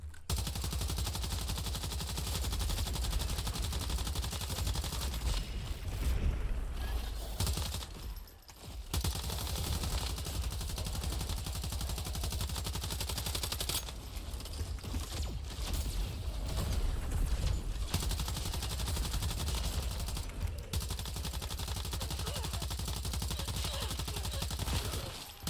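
Sustained video game gunfire fills the scene, a dense, near-continuous barrage of shots with a few brief gaps, loud and close throughout.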